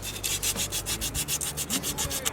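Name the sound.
polishing engine part with wet sandpaper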